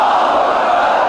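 A large crowd at a Pakistan Independence Day gathering shouts its response to Naara-e-Takbeer, one loud, sustained roar of many voices together.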